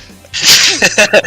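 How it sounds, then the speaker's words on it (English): A single loud sneeze bursts right into a headset microphone, followed by a few short breathy sounds and a voice reacting. "I didn't mean to sneeze into the mic"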